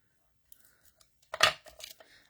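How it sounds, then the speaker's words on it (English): Backing being peeled off craft adhesive pieces: faint rustles and small ticks, then a brief, close crackling rip followed by softer crinkling. "So I've got all the adhesives on. So let's just peel those off."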